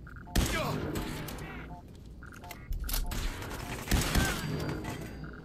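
Gunfire from an incendiary hunting rifle in Fallout 4, with several sharp, loud shots spread irregularly among other game noises and a voice talking over it.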